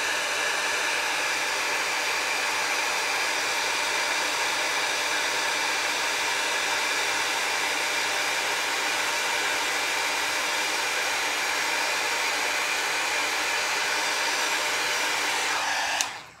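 A craft heat embossing gun blows a steady, loud, breathy whoosh of hot air that runs unbroken for about sixteen seconds, then cuts off abruptly at the end, with no talking over it.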